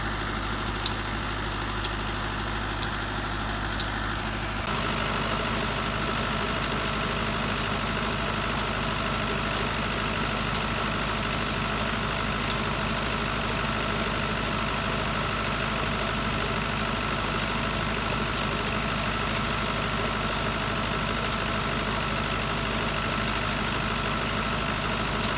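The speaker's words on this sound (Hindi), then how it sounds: "तो ये जो है ना ट्यूब वेल चल रहा था ट्रैक्टर पे।" A tube well engine runs on a tractor on a hot day among sand dunes, a loud, steady low drone that holds unbroken throughout, growing slightly fuller after the first few seconds, with no talk over it.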